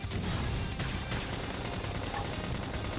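Flame grenade attack in the video game Xenoblade Chronicles X, a dense, continuous burst of crackling, booming combat noise lasting the full three seconds, loud and steady with layered rapid impacts.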